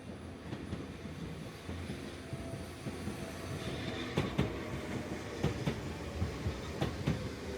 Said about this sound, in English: We stayed a while to film the trains coming in and out.